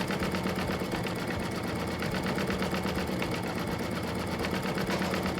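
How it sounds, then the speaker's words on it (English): A computerized embroidery machine stitches a design onto hooped fabric with stabilizer, its needle running in a fast, steady mechanical rhythm that stays loud and continuous throughout with no talking. "Embroider the design."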